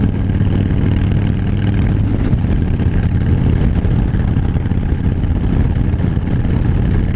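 A 2016 Harley-Davidson Fat Bob motorcycle engine and exhaust runs steadily with a deep, loud, close rumble throughout, no voices present.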